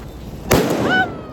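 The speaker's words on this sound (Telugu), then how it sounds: "బాహుబలి బాంబు అట." A Bahubali firecracker bomb set off at a home Diwali celebration gives one sharp, loud blast that then rings and fizzles for a moment in the open air.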